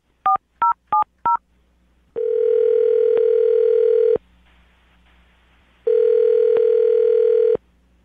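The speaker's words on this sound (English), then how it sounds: "I'm about to dial the phone number and get her on the phone" Four quick touch-tone dialing beeps, then a steady telephone dial tone that holds for about two seconds, stops, and returns for a second stretch. Loud, close and alone with no voices.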